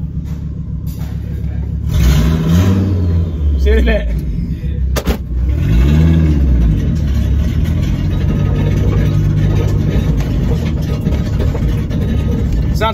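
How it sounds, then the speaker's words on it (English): A Volvo V70 Turbo engine runs close by, idling with a loud low rumble and then revving up twice in rising and falling sweeps before settling back to a steady idle while people talk over it. "let's fire up the old D-Cat V70 Turbo"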